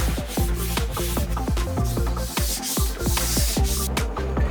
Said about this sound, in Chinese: 现在我们就要把表面这个地方稍微用600的试水砂纸给它打磨一下